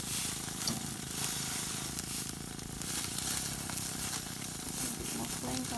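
A ribeye steak sizzles and crackles over open flames on a barbecue grill, a steady dense hiss with small pops throughout, close and fairly loud.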